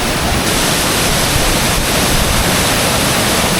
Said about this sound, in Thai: เสียงน้ำตกดังมากเลย